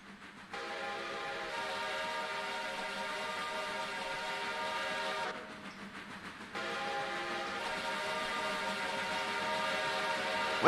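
A train arrives and sounds a long, loud, sustained horn in two drawn-out blasts separated by a short gap, steady and fairly near, with no talking.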